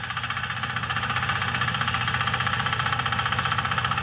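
A mini power tiller with a 1-liter diesel engine runs steadily close by, its rapid even knocking chug keeping a constant rhythm throughout with no talk.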